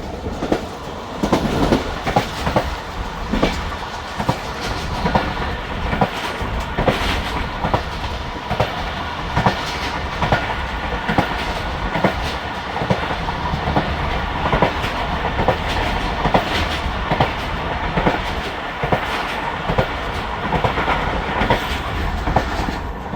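The Khyber Mail passenger train runs through Mubarakpur railway station, a loud continuous rumble with rapid rhythmic clickety-clack of wheels over rail joints, heard from on board, with no talk.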